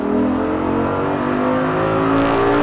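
An Audi R8 GT sports car, lightened by 100 kg, drives on a wet race track strewn with dead leaves. Its engine drones steadily and loudly throughout, with a sustained tonal hum and no talking.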